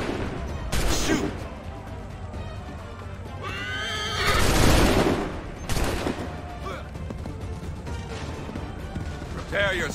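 Musket volleys crack out in Assassin's Creed III amid battle noise, with loud bursts of gunfire, horses neighing and hooves clopping, and voices shouting orders over the fighting.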